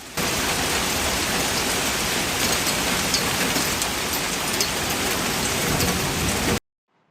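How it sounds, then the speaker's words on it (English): First hailstorm of the season in the Denver area, a dense, steady roar of hailstones pelting the ground, loud and unbroken for about six seconds before cutting off abruptly; no voices. "The first hailstorm of the season in the Denver area"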